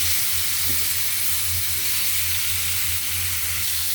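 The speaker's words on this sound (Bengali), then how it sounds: "আলুগুলো এভাবে সুন্দর করে ভেজে নেবেন।" Potatoes sizzling in hot oil in a kadai after fish has been fried, a steady close crackling and hissing throughout with no pauses or talk.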